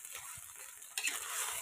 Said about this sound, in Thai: ตั้งกระทะนะคะใส่น้ำมันนิดนึงนะคะผัดพริกแกงให้หอมๆนะคะ